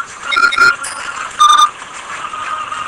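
Classic StarCraft Comm Beep from the video game, a pair of bright electronic beeps repeated over a steady hum.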